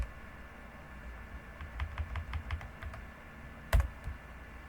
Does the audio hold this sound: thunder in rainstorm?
no